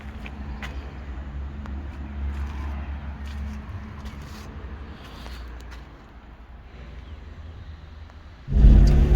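A car named Eric, newly fitted with older leather seats, hums along steadily with a low engine rumble and faint road noise, swelling briefly louder at the very end.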